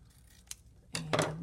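Paper being trimmed with scissors: one faint snip, then two louder, closer crisp cuts in quick succession, alone in a quiet room.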